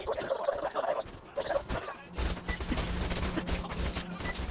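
Enemy gunfire in Borderlands 2 as foes fire down from the high ground of a house, a dense burst of shots and impacts that grows louder and more continuous after a quieter opening stretch.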